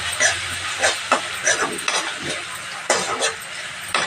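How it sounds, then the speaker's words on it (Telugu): Ginger garlic paste frying in a pan for mutton curry, with repeated scraping stirs and light sizzling in an uneven rhythm, close and moderately loud, no voices. "ఇది కూడా పట్టు వాసన అయ్యే వరకు ఫ్రై చేస్తున్నాం"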